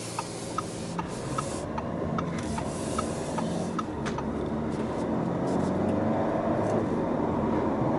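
The engine of a 2017 Audi A4 Prestige hums steadily from inside the cabin, with road noise and light rattles as the car drives along.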